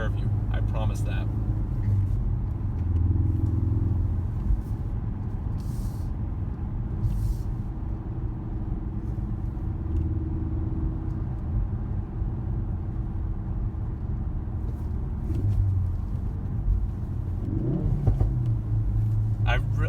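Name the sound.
car engine revving while driving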